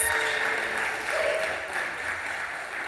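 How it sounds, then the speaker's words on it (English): A church congregation applauds a visiting neighborhood youth choir from Chicago's Englewood area, a steady, dense wash of clapping that holds at a fairly even level for the full three seconds with no voices above it. "let's give them a round of applause"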